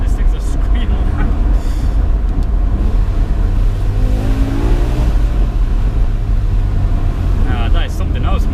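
A BMW M5 E60 engine drones loud and close, with a rising rev sweep in the middle and a throaty, continuous roar throughout; someone talks over it at moments.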